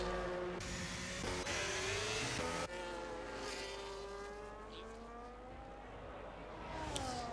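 A Ferrari race car in a racing video game, on track at Vegas, revs and shifts up through gears as it peels into the pit lane, engine pitch climbing and dropping in sweeps, fairly faint, no voices.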